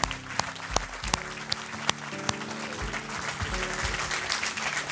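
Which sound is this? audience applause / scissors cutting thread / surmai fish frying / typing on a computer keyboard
audience applause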